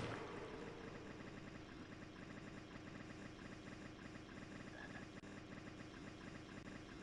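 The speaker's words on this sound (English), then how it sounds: "Who has such a faulty motorcycle?" Faulty motorcycle engine idling in the PC game Harry Potter and the Chamber of Secrets, a steady uneven knocking chug that runs continuously and faintly, alone without talk.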